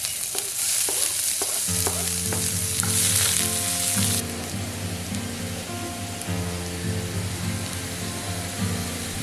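Green chillies and chopped onion sizzle and crackle in a hot pan for dhaba-style mutton curry, a steady close frying hiss with a stirring scrape early on, no talking.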